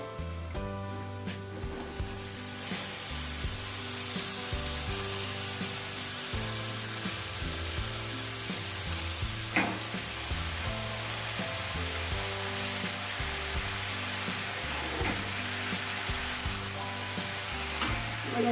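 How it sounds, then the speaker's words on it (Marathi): Washed mushrooms tossed into a hot pan with hing, turmeric, masala, salt and chicken masala, frying for a mushroom masala. A steady close sizzle runs throughout, under continuous background music. "त्याच्यानंतर हे मशरूम धुवून घेतलेत ते टाकूया."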